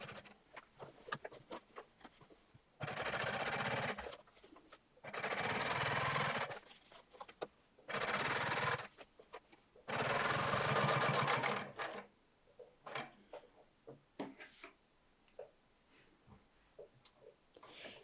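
Sewing machine double top-stitching the back seam of jeans through thick denim, running in four sustained bursts of rapid stitching separated by pauses filled with handling clicks and rustles.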